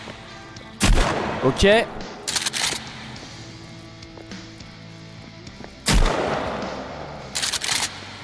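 Gunshots in the video game Sons of the Forest ring out as a few loud, sharp blasts and quick pairs spread across the stretch with quiet gaps between them, and a voice briefly speaks.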